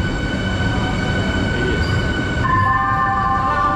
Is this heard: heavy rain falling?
no